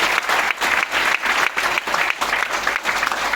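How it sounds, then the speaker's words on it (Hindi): A large audience breaks into loud, steady applause, many hands clapping together at close range with small pulsing swells and no talk over it. "तालियां हो जाए एक बार उनके लिए।"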